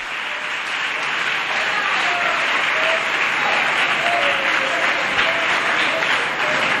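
A church congregation applauds steadily to acclaim the Lord, a dense, continuous wash of many hands clapping close by with a faint murmur of voices mixed in.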